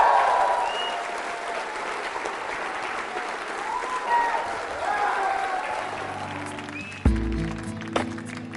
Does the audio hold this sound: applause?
yes